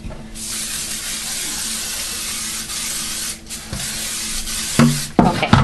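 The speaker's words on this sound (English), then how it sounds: "a little cooking oil spray, or you can butter and flour it" Cooking oil spray hisses from an aerosol can into a brand-new, shiny metal baking pan, a loud steady spray of several seconds followed by a few shorter bursts, close to the microphone with no talking.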